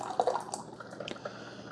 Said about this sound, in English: We can see here it's brewing that vinegar and water through the machine.